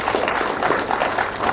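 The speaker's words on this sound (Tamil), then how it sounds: "அதுக்கே ஒரு கைத்தட்டி நம்ம பாராட்ட தெரிவிக்கலாம்." Audience applause after a Bharatanatyam arangetram dance performance in an auditorium: steady, dense clapping from a crowd, fairly close and continuous throughout.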